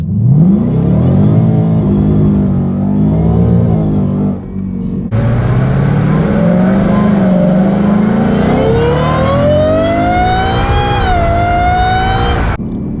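Whipple-supercharged 2018 Ford Mustang GT V8 accelerating hard, a loud close engine roar that climbs steadily in pitch through the gears, with a brief dip at a shift and a whining supercharger rising over the exhaust.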